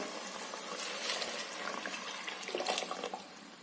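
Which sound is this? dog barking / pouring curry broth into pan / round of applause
pouring curry broth into pan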